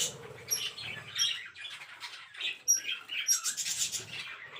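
Lovebirds chirp and tweet in quick, overlapping bursts, several birds calling at once at moderate volume in a steady, busy chatter with no talking.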